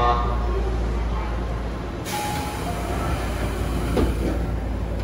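A Tobu express train bound for Minami-Kurihashi pulls out of the station, a loud, steady rumble of wheels and motors building as it departs, with a voice faintly present beneath.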